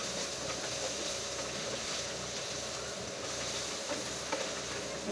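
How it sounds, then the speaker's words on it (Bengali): Onions frying in a pan, giving a steady soft sizzle with a broad hiss and faint low rumble, continuous and fairly quiet, with no talking. "এবার আমি পেঁয়াজটা ভালো করে ভাজি করে নিব।"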